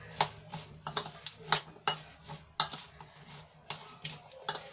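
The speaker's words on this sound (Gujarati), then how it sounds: "ગાજર અને મરચાંને સરસ રીતે આપણે હવેદમાં ભેળવી લેવાનું છે" A spoon stirring a carrot and chili pickle in a metal bowl, with quick, irregular clinks and scrapes repeating close by.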